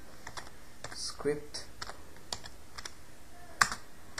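Someone types code on a computer keyboard, giving a run of distinct, irregular key clicks heard up close, with a brief spoken word partway through.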